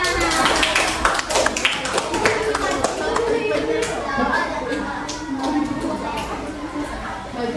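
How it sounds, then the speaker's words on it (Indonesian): Schoolchildren clapping for a classmate in a classroom, a loud burst of many small hands that tapers toward the end, with children's voices and an adult speaking over it. "Tepuk tangan untuk kawannya."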